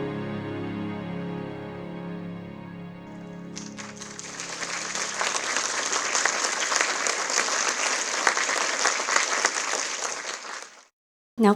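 An audience applauds the cast and crew of a Christmas stage play, a burst of dense clapping that swells after singing fades and carries on steadily for several seconds before cutting off.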